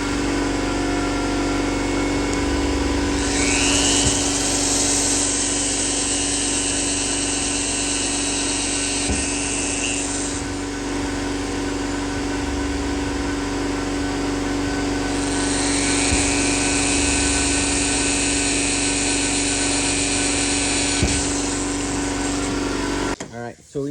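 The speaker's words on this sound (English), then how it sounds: "Sabino's drilling the holes now." A power drill boring holes in a painted Lexan windshield on an F-body car, whining in two long sustained bursts separated by a pause, over a loud steady background hum.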